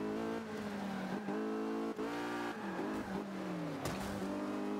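A Volvo supercar races at Silverstone in Forza Motorsport 5, its engine holding a loud, steady, high-revving drone with brief dips at gear changes, constant and close throughout.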